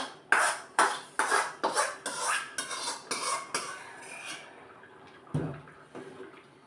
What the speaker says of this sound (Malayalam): ഇനി ഞാൻ ഇതിലേക്ക് കടുക് പൊട്ടിച്ചൊഴിക്കുവാണ്